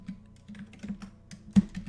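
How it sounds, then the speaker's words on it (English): Fingers typing a short phrase on a computer keyboard, a quick, close run of soft clicks and taps with one sharper keystroke near the end, quiet and alone. "Let's just type that in"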